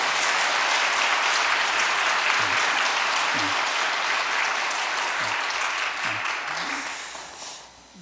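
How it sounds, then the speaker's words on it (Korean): Sustained applause from an audience welcoming a foundation chairperson and companions at a church regional gathering, dense steady clapping that fades out over the last second or two. "환영의 박수를 다시"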